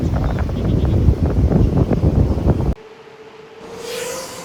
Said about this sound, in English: So it's very windy. It's about 15 miles per hour wind